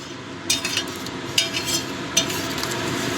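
A spoon stirs sugar into vegetarian khichuri in a pot, giving a few bright metallic clinks and scrapes against the steady bubbling simmer beneath.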